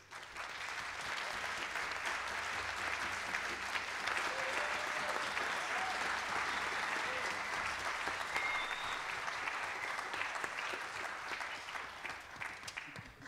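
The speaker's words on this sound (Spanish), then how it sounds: "un fuerte aplauso para un gran músico quilpoíno" Sustained audience applause at a municipal orchestra concert in Quilpué, honoring a local musician; dense, steady clapping fills the whole stretch at even loudness before tapering slightly at the end.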